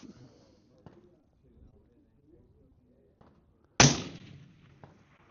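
A single sharp report from a scoped long-range rifle on a shooting range, a loud isolated crack with a short decaying tail, preceded by quiet handling noises.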